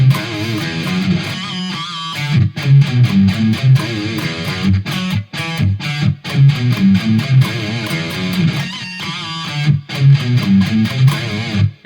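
Loud distorted electric guitar playing a fast lick with squealing pinched harmonics, steady and dense throughout with brief gaps.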